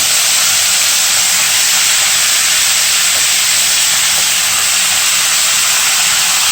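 Turkey wings fry in hot oil in a pot, a loud, dense, unbroken sizzle and hiss that runs close and steady throughout with no voices over it.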